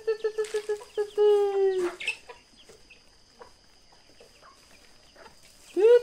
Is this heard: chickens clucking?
yes